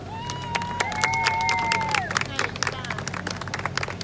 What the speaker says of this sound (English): Let's give them all a good round of applause